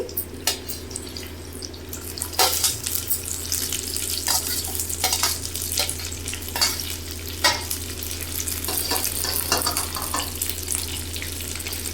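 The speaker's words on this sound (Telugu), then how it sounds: "తర్వాత అయితే పచ్చిమిర్చిని వేసుకొని వేయించుకోవాలి" Green chillies and curry leaves frying in oil in a pan, a continuous close sizzle over a low background hum, with repeated sharp scrapes and taps of a spoon stirring.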